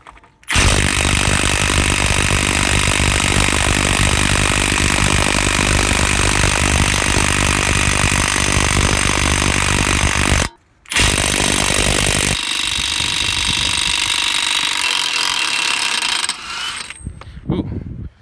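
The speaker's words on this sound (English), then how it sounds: "Let's see if the mid-torque can handle a wheel lock nut." A Milwaukee mid-torque impact wrench hammering at a car wheel lock nut, a loud, sustained rapid rattling burst that cuts out briefly, resumes, then tapers into lighter clatter near the end.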